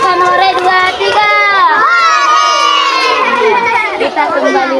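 A group of children in a classroom shouts a loud, sustained cheer together, many young voices overlapping in a near, excited burst that fills the whole moment.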